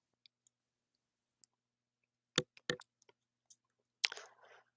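Scissors snip through paper for a craft project, a few sharp close cuts in quiet bursts with a short rustle of paper at the end.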